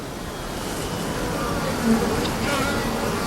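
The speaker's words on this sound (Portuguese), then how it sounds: "as abelhas se comunicam através do som de suas asas" A steady, dense insect buzz of many wings, continuous and fairly loud throughout, like a swarm of bees humming close by.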